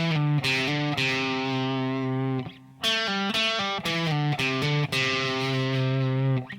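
An electric guitar with distortion plays lick six of the solo, album version: a quick run of bright sustained notes with hammer-ons and short gaps, played alone and up close.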